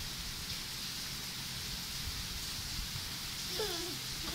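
Rain falls steadily on a village house, a dense constant hiss of drops on surfaces with faint voices of children in the background.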